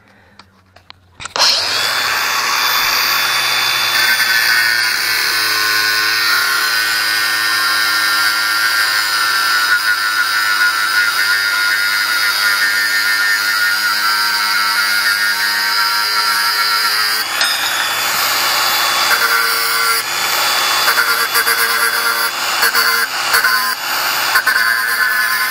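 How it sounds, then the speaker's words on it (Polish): An angle grinder spins up and grinds metal in a long, loud, high whine, its pitch shifting slightly as pressure changes. "wziąłem szlifierę."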